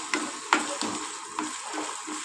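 Tomato added to frying ginger garlic paste for a green pea curry, a soft sizzle nearby with several sharp clicks and scrapes of a spoon against the pan.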